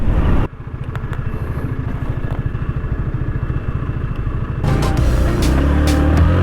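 Honda CBR150 motorcycle pulling away from a red light: a rapid pulsing engine throb builds steadily, then opens into a louder, broader roar with wind noise, close and without talk.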